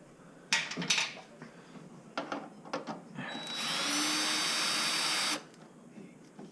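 A power drill unscrews a light fixture while working on a Mustang Shelby GT500 S197; a few sharp clicks and knocks come first, then one steady high whine runs for about two seconds and stops.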